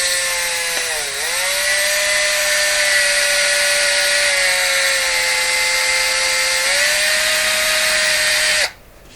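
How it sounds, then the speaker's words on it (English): A power grinder steadily grinds the worn, poor-condition surface off a part from a Canadian Admiral J104X/J105X console, a loud continuous whine with a brief dip in pitch early on, then cutting off abruptly near the end. "Usually the surface grinds right off because it's not in very good shape."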